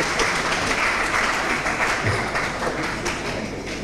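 Steady, dense applause from a large crowd at a government announcement in Ghana, sustained throughout at a constant loud level.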